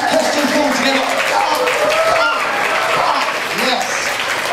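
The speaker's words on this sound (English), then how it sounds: "Give him a round of applause" Comedy club audience applause at a stand-up show in Southampton, loud steady clapping from a crowd filling the whole stretch with a few cheers mixed in.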